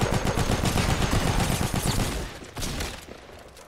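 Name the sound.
gunfire from a semi-auto sniper in Fortnite video game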